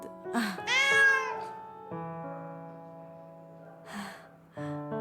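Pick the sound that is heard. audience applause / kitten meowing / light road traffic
kitten meowing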